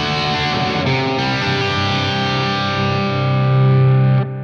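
High-gain distorted electric guitar through a Sonicake Black Hammer multi-effects pedal, a sustained saturated chord ringing loud and thick with buzzy overtones, swelling slightly before stopping abruptly.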